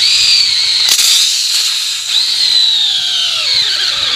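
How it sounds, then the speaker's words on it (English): A steel drill bit bores through a motorcycle tire with a loud, close, high-pitched whine that shifts in pitch as the bit bites into the rubber, with a couple of sharp catches partway through. "I'm going to take my Valerium steel drill bit here, and I'm going to completely ruin this tire"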